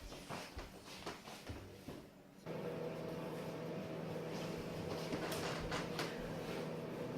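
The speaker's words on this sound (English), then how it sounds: "I'm going to put it in the microwave for 1 minute." A microwave oven switches on partway through and runs with a steady, even hum after some faint handling noises.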